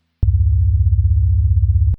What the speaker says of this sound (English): As you can hear with the sine waves, this chord